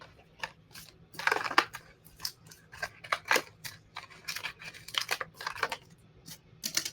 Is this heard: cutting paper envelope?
yes